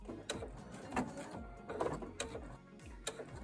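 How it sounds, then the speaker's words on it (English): A sewing machine stitches down the binding on a quilt, closing a 5-inch gap using a 5/8-inch quilt binder and 0A foot; a steady, close mechanical whir with rapid ticking needle strokes swelling in short bursts, no talking. "stitch along here to close off that 5-inch gap"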